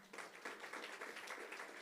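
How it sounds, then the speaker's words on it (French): Applause from a church congregation during a sermon, a soft, steady patter of many hands clapping that starts abruptly and continues evenly, faint and somewhat distant, without voices. "On peut applaudir pour lui."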